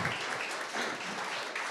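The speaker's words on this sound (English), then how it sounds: "Big applause" Conference audience at a construction-sector circularity event breaks into brief applause, a dense, even patter of many hands clapping at moderate loudness.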